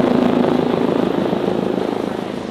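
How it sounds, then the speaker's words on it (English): An emergency helicopter drones loudly overhead, its steady rotor chop and engine rumble filling the whole stretch without pause. "That's like an emergency helicopter or something."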